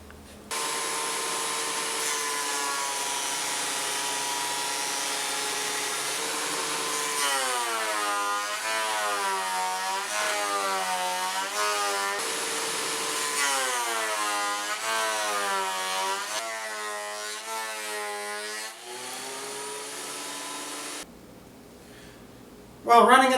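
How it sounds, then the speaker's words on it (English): A thickness planer feeds round wooden coasters through with a loud, continuous whining drone that rises and falls in pitch as each piece passes, then cuts off near the end. "when I run this through the thickness planer"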